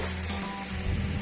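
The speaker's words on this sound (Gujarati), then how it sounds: "આ છે પાણીનો ધોધ। પણ પાણી અત્યારે હાવ ઓછું થઈ ગયું છે" Kedariya waterfall near Kedarnath Mahadev running low on water gives a steady, close rushing splash, a short continuous wash of falling water with no talk.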